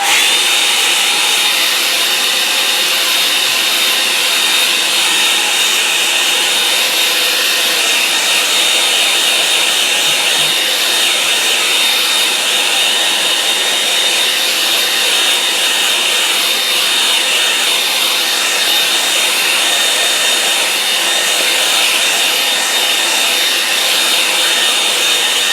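A hair dryer blows steadily on a watercolour painting of a Norfolk farm track, a loud, continuous whirring roar with a thin high whine that holds unchanged throughout, with no talking.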